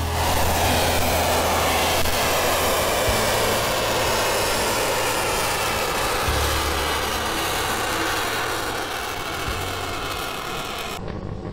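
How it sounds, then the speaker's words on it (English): SpaceX Starship SN10 rocket engines roar at liftoff from Boca Chica, Cameron County, Texas: a loud, continuous broadband rumble that holds steady for about eleven seconds, with no voices over it. "Starship 10 has liftoff. It's headed to 10 kilometers on its test flight from Boca Chica in Cameron County,"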